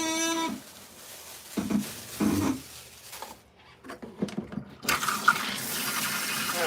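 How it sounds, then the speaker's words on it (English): Cool water runs from a salon sink tap while a client's hair is rinsed, rushing and splashing close by as the flow shifts over the head, with quieter gaps between bursts. "we're rinsing out her color. We're gonna use cool water to do so."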